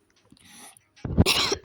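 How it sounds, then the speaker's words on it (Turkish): A person coughs a couple of times, close and sharp, after a short stretch of quiet breathy noise. "çok öksürdüğüm için Özür dilerim ama hastalık işte"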